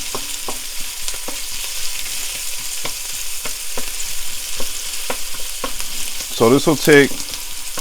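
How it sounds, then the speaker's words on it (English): Onions sizzle and brown steadily in a pan with occasional stirring scrapes, a close, continuous crackle; a voice briefly speaks near the end. "we're gonna let that brown up for just a few minutes, just until the onions are translucent and clear"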